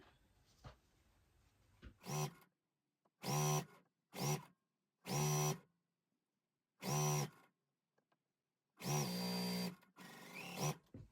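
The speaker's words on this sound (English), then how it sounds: "I'll go ahead and sew this strip on" A sewing machine stitches a quilt strip in a series of about seven short whirring bursts separated by quiet pauses, close and clear, with no talking.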